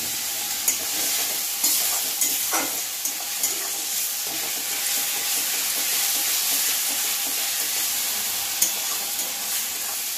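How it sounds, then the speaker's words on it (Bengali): Onion paste fries in hot oil with a steady, dense sizzle throughout, broken by a few light scraping and stirring knocks, and no talking. "তেল গরম হয়ে গেছে, আমি পেঁয়াজ বাটাটা দিয়ে দিই।"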